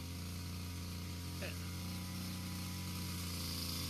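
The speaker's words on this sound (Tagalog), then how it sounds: "Ayan si Joey, nagpa-practice mag-grass cutter kasi hindi pa siya bihasa dyan" A grass cutter engine running steadily on a farm, a continuous droning hum with a constant pitch, with a brief voice heard faintly over it.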